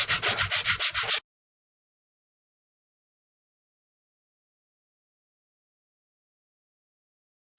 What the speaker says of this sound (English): this should be the final sanding in this area for the moment anyway